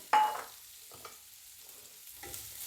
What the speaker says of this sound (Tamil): இந்த தேங்காய்ப்பு வந்து ஈரத்தன்மை போகிற அளவுக்கு இந்த நெய்யில் வறுத்து கொள்ளுவோம்